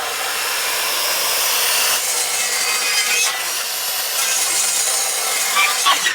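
Hand saw cutting notches into wooden framing posts, a steady continuous rasping stroke that runs loud and close throughout, with a short change in pitch near the end and no talking.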